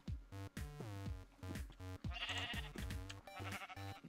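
Sheep in the Minecraft video game bleating repeatedly, a string of close, clear baa calls in quick succession, some overlapping, with no other sound.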